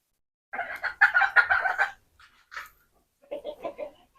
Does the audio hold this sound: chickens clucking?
yes